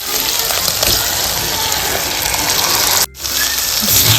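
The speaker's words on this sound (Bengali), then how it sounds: "এখন আমি মেটেগুলোকে একটু ঢেলে দেব।" Chicken liver tipped into a pan of oil-released fried spice masala for Bengali mete chorchori, a steady loud gushing, sizzling wash that runs nearly unbroken, with one brief dip near the end before resuming.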